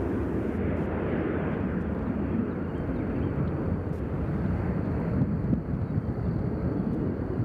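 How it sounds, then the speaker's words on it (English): A Southwest airliner takes off at Nashville International Airport, a broad, steady engine roar with heavy low rumble and wind buffeting that holds close and loud throughout, with no talk. "There's a Southwest taking off next."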